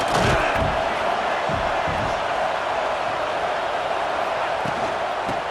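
Large college football stadium crowd at a UCLA vs Utah game, a steady loud roar of cheering and noise filling the whole clip, with a faint announcer voice underneath.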